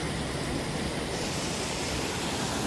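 Jogigundi Falls gives off a constant, even rush of falling water, close and dense with no breaks, and no voices are audible over it.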